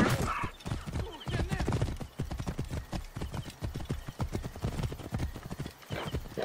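Rapid, dense hoofbeats of galloping horses in the video game Assassin's Creed Origins pound continuously, with an occasional whinny and a voice calling out under the clatter.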